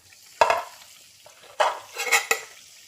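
Bomboloni doughnuts frying in oil are stirred and turned, giving three bursts of close sizzling and scraping, each rising sharply and then fading, with quiet gaps between.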